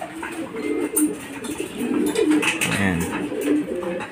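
Homing pigeons coo repeatedly just after arriving home from a race of over 100 kilometres, several close, soft rolling calls overlapping in a loft.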